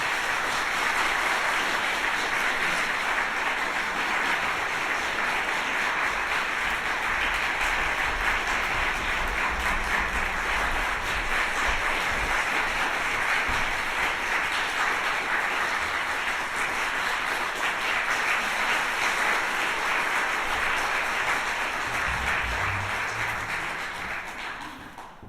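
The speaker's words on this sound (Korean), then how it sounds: "큰 박수로 맞이해 주시길 바랍니다" At a classical chamber ensemble concert, an audience gives steady, even applause welcoming the performers onto the stage, a continuous dense clapping that holds for over twenty seconds and fades only at the very end.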